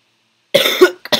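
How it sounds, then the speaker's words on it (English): A single short cough from a nearby person, a harsh burst lasting about half a second, followed by a brief catch of breath and a second quick cough fragment. "Cough."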